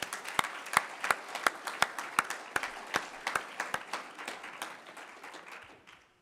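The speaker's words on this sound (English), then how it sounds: "let's give all of them a big round of applause" A crowd applauds fire academy recruits at their graduation ceremony, with steady, fairly close clapping that holds an even pace and then fades out toward the end.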